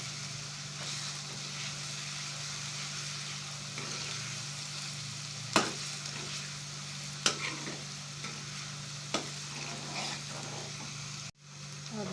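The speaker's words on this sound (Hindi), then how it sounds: "प्याज को हल्का हल्का ब्राउन होने देंगे।" Onions frying and being stirred in a karahi for a karahi gosht, with a steady sizzle running throughout and a few sharp scrapes and clinks of the spoon against the pan.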